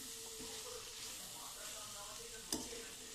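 Food sizzles steadily in a frying pan as it is stirred with chilli powder and salt, a continuous hiss with a sharp clank of the spoon near the end.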